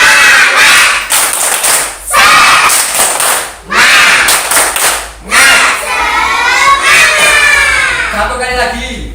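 Children in a classroom performing a rhythmic clapping chant together, loud bursts of shouted chanting and sharp synchronized claps in several separate rounds, close and energetic with brief pauses between.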